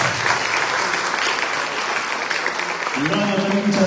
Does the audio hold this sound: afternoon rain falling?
no